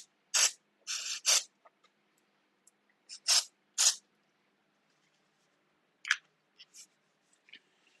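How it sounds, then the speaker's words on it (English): Brake cleaner sprayed onto new oily bolts in short hissing bursts: a cluster of several quick sprays near the start, two more a few seconds later, then a few brief faint hisses toward the end, close and fairly quiet. "These are new bolts, so I am going to hit them with the brake clean to get the oil off of them real quick."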